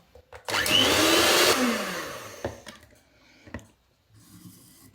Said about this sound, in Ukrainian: Тепер потрібно це все збити. Я буду використовувати міксер.